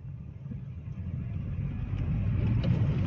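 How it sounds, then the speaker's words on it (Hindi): A Nissan Magnite Turbo pulls away in first gear, its low engine rumble and road noise building steadily as it gathers speed, heard from inside the car without talk. "यहाँ पे हल्का सा मैं इसको एक्सेलरेट करके देखता हूँ"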